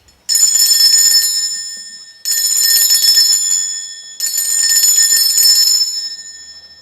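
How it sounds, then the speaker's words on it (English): A handheld bell rung three times to cleanse a space, each strike bright and ringing with a long shimmering decay, spaced about two seconds apart and heard alone. "I'm going to ring this bell"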